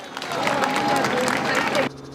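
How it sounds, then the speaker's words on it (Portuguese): Applause and crowd noise during a funeral procession heading to a cemetery in São Paulo: steady clapping mixed with murmuring voices, continuous for about two seconds before cutting off abruptly. "No cortejo, aplausos e comoção."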